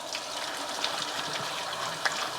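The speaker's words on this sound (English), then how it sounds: "Done peeling the potatoes, so it's time to give them a quick wash." Tap water runs steadily over freshly peeled potatoes in a kitchen, a continuous broad rush of splashing water with a couple of brief louder spatters, no voices.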